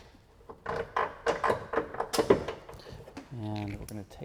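Upper control arm bolts being removed from a Tesla Model 3 suspension: a run of sharp metallic clicks and ratcheting taps close by, followed by a steadier whirring, tonal mechanical sound near the end.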